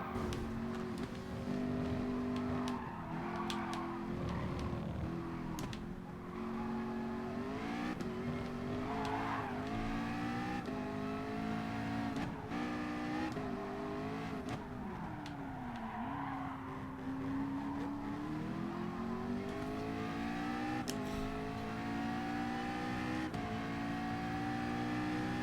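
Race car engines drone and shift pitch continuously in Gran Turismo Sport endurance racing, with rising and falling revs and occasional tire squeal, steady and loud throughout without voices.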